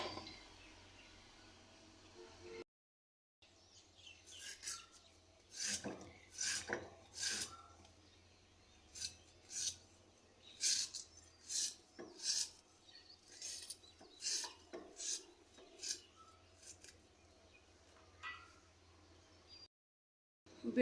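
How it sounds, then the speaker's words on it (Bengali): A knife slicing through beetroot, heard as a run of crisp, rasping cuts in an uneven rhythm, close and fairly quiet, with short silent breaks and no speech. "বিটরুট কাটা শেষ হয়ে গেছে"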